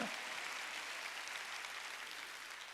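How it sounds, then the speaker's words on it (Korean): Steady, dense applause from a church congregation during a Sunday worship service, a continuous wash of many hands clapping with no voices on top. "박수로 하나님께 영광을."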